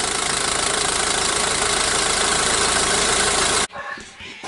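A Ford Ranger engine idles steadily while warming up, a loud, even mechanical drone that runs unbroken and then cuts off abruptly near the end, leaving only faint background noise.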